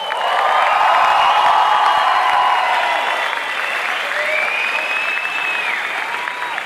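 A large crowd applauds and cheers loudly and continuously, with whistles and shouts rising over steady clapping.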